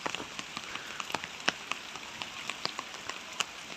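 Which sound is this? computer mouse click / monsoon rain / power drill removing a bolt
monsoon rain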